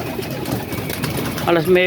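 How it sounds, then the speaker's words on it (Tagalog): Pigeons coo nearby, soft low calls rising toward the end beneath someone talking over them. "May mga kalapati dun."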